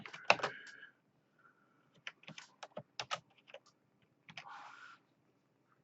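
Typing on a computer keyboard while adding text for a laser-engraved plaque, scattered bursts of close, quiet key clicks in uneven clusters separated by pauses, with no talking.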